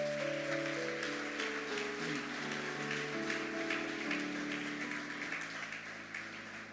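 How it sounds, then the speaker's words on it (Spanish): A church congregation claps together, a broad steady wash of applause with music or sustained tones underneath, fading slightly toward the end. "Démosle un fuerte aplauso al Señor"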